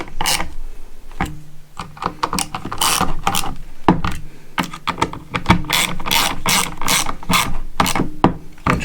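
A ratchet snugs down bolts on the aluminum FICM housing of a Ford 6.0 diesel. Loud, close, irregular clicking comes in short strokes and pauses, with clinks of metal handling in between.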